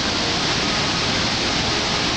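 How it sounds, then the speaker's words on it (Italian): Victoria Falls in Zambia roars with a dense, unbroken wash of falling water and spray, loud and steady throughout with no voices. "Io non ci vado, ma non è pioggia, è cascata."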